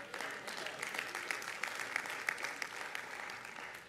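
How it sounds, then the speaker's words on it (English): Church congregation clapping after a sermon line, a steady sustained burst of applause from many hands with scattered sharper claps, lasting several seconds before tapering slightly at the end. "I'm so glad you clapped"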